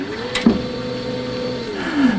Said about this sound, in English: That's an industrial printer.